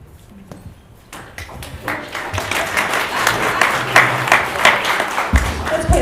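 Audience at a county candidate forum bursts into applause after a few scattered claps, swelling into a steady, fairly loud round of clapping in a room.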